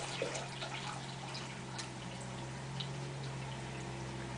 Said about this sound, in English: go ahead and top it off with the rest of your water